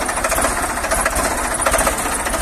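Diesel engine of a Ford 3600 tractor running steadily nearby, a loud continuous rumble with rapid knocking pulses throughout.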